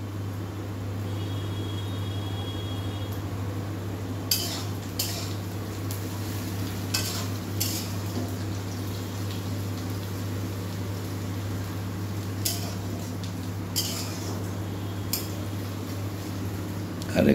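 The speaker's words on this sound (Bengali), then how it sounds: "এখানে পেঁয়াজগুলো ভেজে নিচ্ছে ভালোভাবে" Onions frying in a pan make a steady, soft hiss under a constant low electrical hum, with a few faint scraping clicks of stirring scattered throughout.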